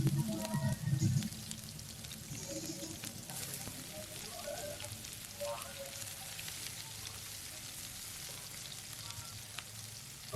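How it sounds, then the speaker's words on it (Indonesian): Chopped onions sauté in melted butter in a nonstick pan, giving a steady, close sizzle and crackle that starts a little louder and then settles into an even frying hiss, with faint clinks of stirring. "kita tumis bawang bombay"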